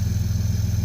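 Up close, a 2016 Ram 1500 EcoDiesel truck with a diesel delete kit and open exhaust idles with a loud, deep, rhythmically pulsing throb.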